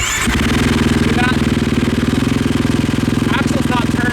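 KTM 450 motorcycle engine fitted to a homemade buggy, sputtering to life and settling into a loud, steady, rapid-firing idle close by.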